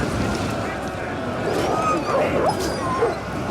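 Attack dogs in the strategy game Attila Total War bark and yip amid battle noise, short sharp barks and whimpers layered over a dense, loud wash of combat sound.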